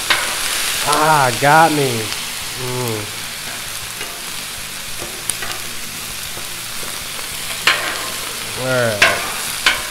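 Serrano peppers sizzle in a pan as they are stirred, a constant close hiss broken by scraping and clinking strokes, with someone talking briefly over the cooking.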